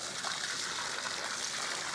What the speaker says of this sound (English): Now that's the fountain.